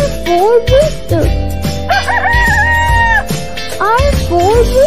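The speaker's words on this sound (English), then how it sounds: "R for rooster." A rooster crows loudly and near, a few drawn-out rising and falling calls in a row, with a cat-like yowling quality and other steady tones running beneath them.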